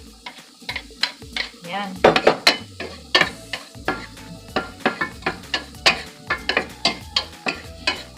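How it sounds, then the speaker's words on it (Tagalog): Garlic and onion sautéing in a pan for fried rice with sausage, a sizzle under rhythmic, regular scrapes and taps of a spatula against the pan, with a brief spoken word. "Ilagay na natin ang ating garlic. At ang susunod natin ilagay ang ating onion."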